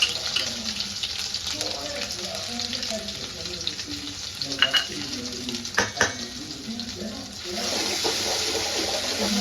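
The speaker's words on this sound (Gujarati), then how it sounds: "તો આપણે આ આદુ લસણ અને મરચાંની પેસ્ટ નાખીશું" Ginger, garlic and chilli paste hits hot oil in a pan for veg hakka noodles, giving a steady broad sizzle with stirring scrapes, a brief louder burst near the end and a voice talking faintly underneath.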